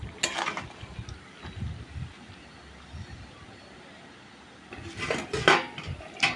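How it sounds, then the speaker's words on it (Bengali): Chicken curry with potatoes, meat and spices being stirred in a pot, a spoon scraping and clattering against the metal in two bursts separated by a quieter stretch, close and moderately loud. "আলু মাংস আর মশলা সব কিছু একসাথে এসে ভালোভাবে নাড়াচাড়া করে কষিয়ে নেবো"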